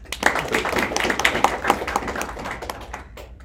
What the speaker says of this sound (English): let everybody clap